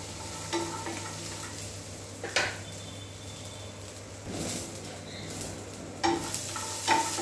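Chutney ingredients stir-fried in a pan for a breakfast dish, a soft background sizzle with intermittent scraping and clattering stirs of a spoon, close but fairly quiet.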